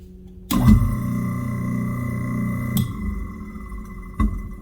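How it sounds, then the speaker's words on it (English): A kitchen garbage disposal powered by a Jackery HomePower 3600 Plus starts abruptly with a loud clunk and runs with a steady grinding whir. A knock comes partway through and another bump near the end. "Let's try the disposal."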